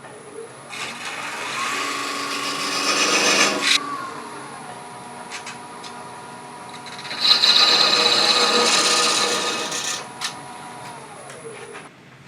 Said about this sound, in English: Now we're going to part that off with a thin parting tool.